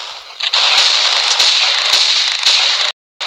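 Gunfire in the mobile shooter Pixel Gun 3D: a steady, dense crackling burst of shots with a few sharper bangs standing out, loud and close, cutting off abruptly near the end.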